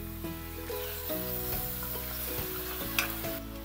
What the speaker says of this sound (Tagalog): Igisa lang natin ito hanggang sa mag-color brown yung ating chicken.